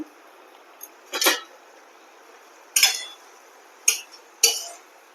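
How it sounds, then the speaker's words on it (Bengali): A spoon stirs banana flower curry with vegetable spices in a pot, giving four or five short metallic clinks and scrapes spaced apart, with near silence in between. "এরই মধ্যে ঢাকা খুলে আমি একটু সবজি মশলা দিয়ে নেড়ে নেবো"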